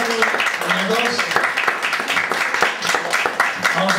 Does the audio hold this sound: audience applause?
yes